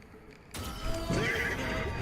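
A horse in the video game Destiny 2 gives a loud whinny that starts abruptly after a short quiet lead-in and rings on for over a second, with faint hoof clip-clop underneath.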